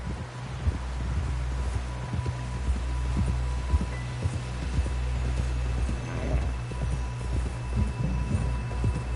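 Horse hooves clip-clopping in a video game, a steady run of soft repeated hoof beats over a constant low rumbling hum, moderately quiet, with no talk over it.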